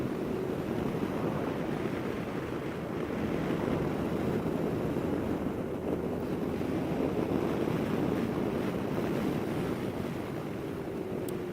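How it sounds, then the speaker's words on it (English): Steady, loud wind buffeting a microphone outdoors beside a parked Honda Gold Wing DCT touring motorcycle, a continuous low rumbling roar that holds unbroken from start to finish with no voices over it. "I'll put this down and you just have to listen to the wind"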